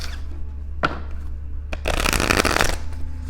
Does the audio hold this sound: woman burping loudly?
no